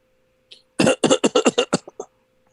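Series of roughly eight harsh coughs in quick succession from a person on a live talk show, near and loud, tapering into a few shorter, weaker coughs at the end.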